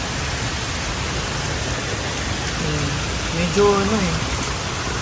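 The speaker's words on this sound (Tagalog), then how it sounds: "lakas ng hangin at ulan" Heavy rain and strong typhoon wind pour down in a steady, loud broadband hiss, with a person's voice speaking briefly near the end.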